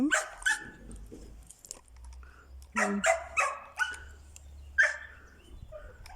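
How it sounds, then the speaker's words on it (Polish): A dog barks repeatedly in short, sharp bursts, fairly close, with pauses between the barks and a low hum underneath. "Pies nam tu będzie hałasował, ale to nic."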